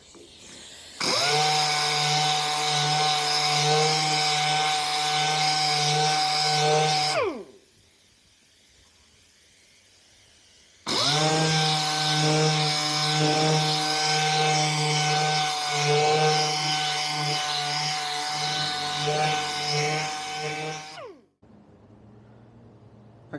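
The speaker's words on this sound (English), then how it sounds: "So I'm going to use this 800 grit orbital sander here." An 800 grit orbital sander works over the bodywork of a Seat Ibiza 1.4, giving a loud, steady whirring buzz in two long passes of about seven and ten seconds, separated by a quiet pause.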